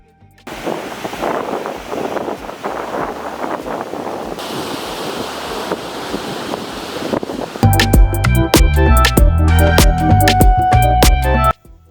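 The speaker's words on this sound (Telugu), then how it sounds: "సముద్రపు గాలి అలల శబ్దం చాలా రిలాక్స్డ్గా స్ట్రెస్ రిలీఫ్ అవుతుందండి" Ocean waves at Besant Nagar Beach, Chennai, wash and rush with sea wind buffeting the microphone, then loud music cuts in over the surf for the last few seconds.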